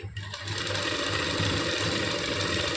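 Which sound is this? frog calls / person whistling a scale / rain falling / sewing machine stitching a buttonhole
sewing machine stitching a buttonhole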